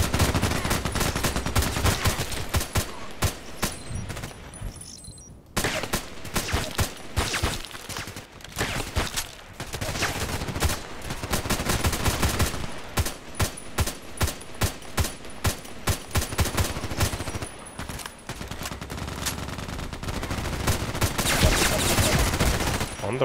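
Rapid single shots from an HK 417D assault rifle in a video game, cracking out loud and close in dense repeated bursts with brief pauses, some shots crowding together almost like automatic fire.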